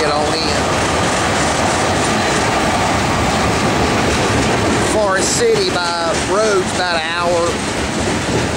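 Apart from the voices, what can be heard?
CSX manifest freight train with UP AC45/SD70 locomotives passing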